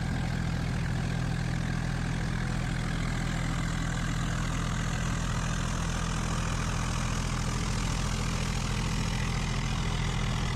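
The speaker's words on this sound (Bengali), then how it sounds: "এই হলো নৌকা, এখান থেকে নৌকা ওপারে যায়, আর ওখানেও নৌকা রয়েছে।" A boat engine drones steadily and loudly on a river crossing at the confluence of two rivers at Mayapur, a continuous low throbbing hum with no speech.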